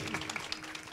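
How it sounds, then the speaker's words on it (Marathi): An audience at a kirtan devotional gathering claps for the singers and musicians, a dense, fairly soft patter of many hands with no voices on top. "एकदा गायक वादकसाठी जोरदार टाळ्या झाल्या पाहिजे महाराज"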